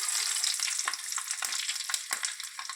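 Dried red chilies fry with popping mustard seeds in hot oil, a bright close sizzle with rapid crackles and stirring strokes.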